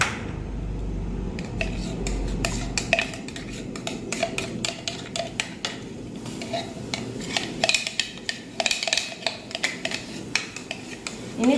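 Ingredients for koro bumbu kuning, jack beans in yellow spice, tipped into a prepared cooking pot before the stove is lit; close, irregular clatter and scraping of metal pot and utensils, with no talking.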